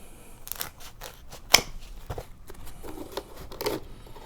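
Scissors snip through foam molding while trimming a DIY tiny ice-cooled AC unit, giving a few sharp, close cuts with one loud snap near the middle amid light handling rustle.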